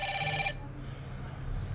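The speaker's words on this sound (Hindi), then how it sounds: "तो आप देख सकते हैं कि इस पर आप कॉल आ रहा है" Incoming-call ringtone from a Hammer Active 2.0 Plus smartwatch: a bright, repeating electronic ring that plays loudly for about half a second, then cuts off, leaving low room hum.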